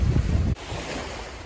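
Surf washing against a very rocky shoreline with clear water on Sifnos, Greece, a loud rush that drops abruptly to a softer, steady wash, with wind buffeting the microphone.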